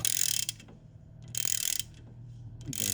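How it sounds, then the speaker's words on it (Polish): Mechanical knocking and rattling clicks from a car suspension control arm, in short bursts with quiet gaps, close by, with a low steady hum beneath and no talking. "O, słychać jak stuka."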